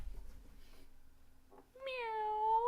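A human voice imitates a cat's meow, a single drawn-out rising and falling mew at the end after a quiet stretch with faint murmuring.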